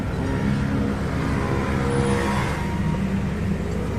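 Toyota Innova engine running at idle with the hood open, a steady close rumbling drone with faint whirring, continuous and unbroken, no voices.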